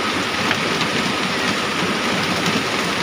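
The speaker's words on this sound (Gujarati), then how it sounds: "એકદમ કરા સાથે વરસાદ પડે છે. જો ટપાટપ અવાજ આવે." Hail falls with rain during a storm in Ahmedabad, making a dense, even, continuous patter and hiss that holds steady throughout, with no talking.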